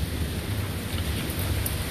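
A thunderstorm with rain in Austin sends a steady, dense wash of rainfall and low rumbling thunder, loud and continuous throughout with gusts of wind buffeting the microphone.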